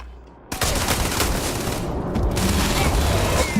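Shotgun fire in the video game Starfield comes as a loud, dense barrage of blasts that runs continuously and close for several seconds.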